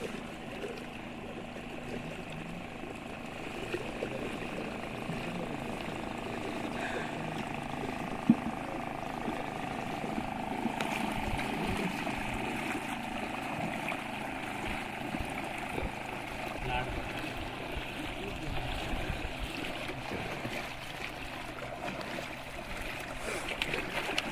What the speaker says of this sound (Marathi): बघा ही होडी बघा इंजिनवाली होडी चालली खाली खाली